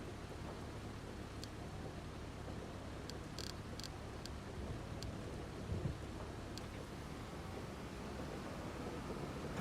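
Steady hiss of rain with a low, rolling thunder rumble during a thunderstorm in the video game Farming Simulator 25, continuous and fairly quiet, with no one talking.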